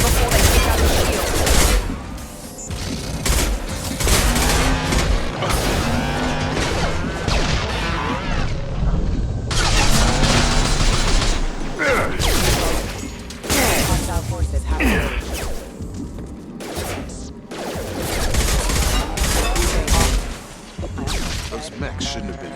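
Combat gunfire against hostile mechs in Mass Effect 2 rattles almost without pause, with dense overlapping shots and booms mixed with voices calling out over the fighting.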